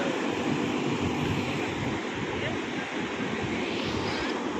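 Sea waves roll in at Bapatla beach as a loud, continuous wash of surf, mixed with wind buffeting the microphone and no voices.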